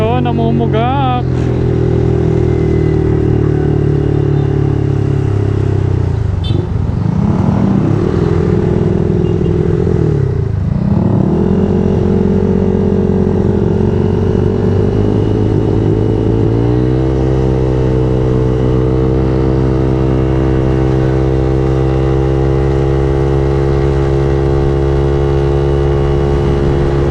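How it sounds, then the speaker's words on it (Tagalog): A Honda Click i125 motorcycle engine runs close by with an unsteady idle, its pitch dipping and surging as it sputters and stumbles before settling into a steadier, slightly higher drone. "Motor ko namumugak."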